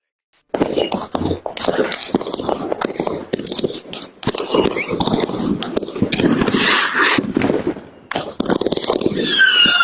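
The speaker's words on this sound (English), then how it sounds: "These strobe fireworks need to be taken off the market." Strobe fireworks crackle and burst in a dense, continuous barrage of sharp pops and fizzing flashes, loud and close, with some faint voices in the background.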